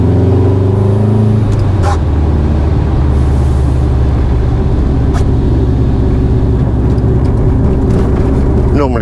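A cold Subaru engine, from a Japanese-market car with a stutter fault, drones loud and close for the whole stretch, holding a steady revving note with a rough, uneven texture.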